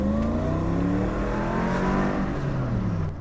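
A supercharged V8 in a Mercedes-AMG G55 W463 accelerates hard, its loud, close engine roar climbing steadily through the revs for about three seconds.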